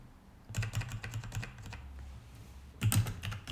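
Computer keyboard keys clatter in two quick, close bursts of typing separated by a short pause, crisp and moderately loud against a quiet room.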